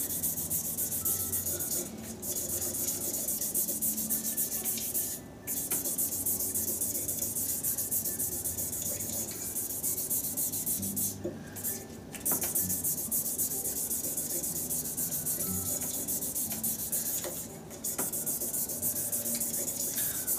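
Sanding pads rubbing over a clear epoxy resin shaving brush handle, a steady close scratchy abrasion running nonstop with a few brief pauses, no voices.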